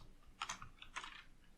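Typing on a computer keyboard: two quick clusters of crisp key clicks, close and quiet, with a few isolated taps between them and no talking.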